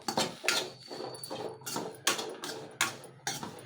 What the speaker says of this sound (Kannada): ಈಗ ಬೆಂಡೆಕಾಯಿ ಹುರ್ಕೊತಾ ಇದ್ದೀನಿ.